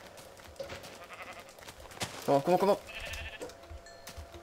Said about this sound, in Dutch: Yes, nog een schaap.